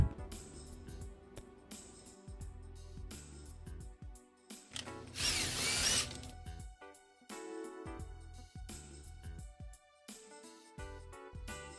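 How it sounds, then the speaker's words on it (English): Tightening a gear clamp on a pipe joint near a freshly glued elbow: close, uneven ratcheting and rubbing bursts with short pauses, including one louder, sustained grinding stretch midway. "Tighten the gear clamp."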